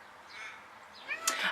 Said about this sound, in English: my cat is outside of my window telling me that it's dinner time now